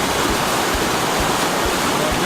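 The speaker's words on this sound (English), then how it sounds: "we made it to the waterfall, and that's all that matters" Waterfall at Hunters Creek near Reno, a loud, constant broadband roar of falling water filling the scene close by, with faint low thumps underneath.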